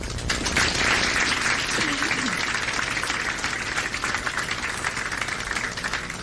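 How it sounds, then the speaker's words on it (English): An audience gives a sustained round of applause, dense and steady clapping at close range lasting throughout, with a brief voice-like murmur in the middle. "we can still give him a round of applause"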